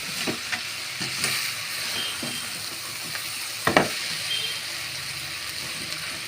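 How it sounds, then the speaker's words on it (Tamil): Spices tempering in hot oil in a home kitchen pan give a steady close sizzle and hiss, broken by a few sharp pops and crackles and a louder spatter burst midway. "இதெல்லாம் போட்டு தாளிச்சுருக்கோம்"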